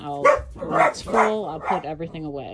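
Several dogs bark intermittently in a home craft room, the yelps tangled with a nearby voice speaking over them.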